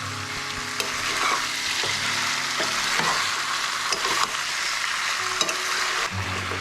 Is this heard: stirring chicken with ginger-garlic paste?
yes